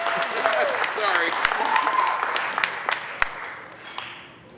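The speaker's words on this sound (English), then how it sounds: "she needs to get a round of applause for doing that" Wedding guests applaud the bride at a Las Vegas wedding, a steady bed of clapping under a voice talking, with a few sharper claps standing out near the end as it thins.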